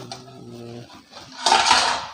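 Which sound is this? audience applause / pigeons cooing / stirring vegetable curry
stirring vegetable curry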